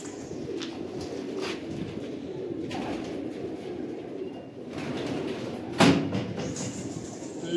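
Domestic pigeons coo repeatedly in a loft, soft throaty calls over a steady background rumble, with a sharp brief clatter near the end and no talking.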